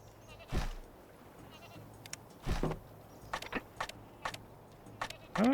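A goat bleats in the Anno 1404 strategy game, a few short, bright bleats with a wavering rise scattered over low background game ambience, faint to moderate and without talk.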